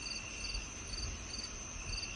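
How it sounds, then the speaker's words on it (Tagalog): Crickets chirp at night in a very quiet setting beside a house surrounded by trees and plants. Their steady, high pulsing trill carries on at a faint level throughout, with no other sounds. "Dinig na dinig din niya mga kuliglig sa sobrang tahimik ng paligid."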